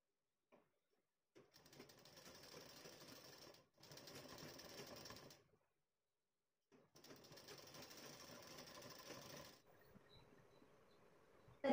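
A sewing machine stitches piping onto a jacket sleeve in three separate runs of fast, even mechanical whirring, each lasting a couple of seconds with quiet pauses between, close but fairly soft.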